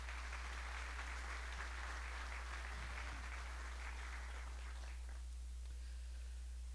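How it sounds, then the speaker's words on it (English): Audience applause for a wife honoured after 45 years of marriage, a steady wash of clapping from a crowd at moderate distance, fairly faint and continuous before thinning toward the end. "round of applause for my wife,"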